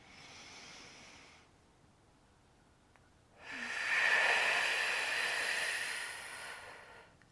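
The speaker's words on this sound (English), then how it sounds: "What we're doing right now is diaphragmatic breathing." Two breathy exhalations are pushed out through the mouth during diaphragmatic breathing in a Pilates abs workout. A short hiss is followed by a pause, then a longer, stronger, close-up rush of air.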